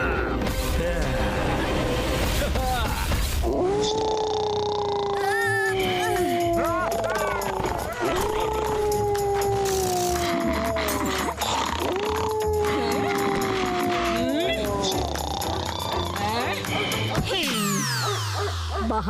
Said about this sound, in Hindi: बाहर ये जानवरों का भौंकना बंद नहीं होता